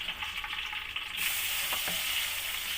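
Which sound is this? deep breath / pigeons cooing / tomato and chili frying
tomato and chili frying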